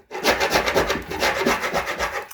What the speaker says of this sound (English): This is a very, very firm scraper. It's a 5-in-1 tool.